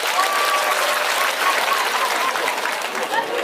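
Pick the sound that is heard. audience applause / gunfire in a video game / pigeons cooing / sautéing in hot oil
audience applause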